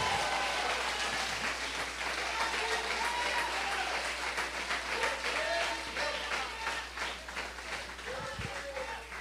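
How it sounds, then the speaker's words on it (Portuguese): A church congregation claps during a worship service, sustained dense applause filling the room for about nine seconds, with voices faintly audible underneath. "Você pode aplaudir o Senhor por isso?"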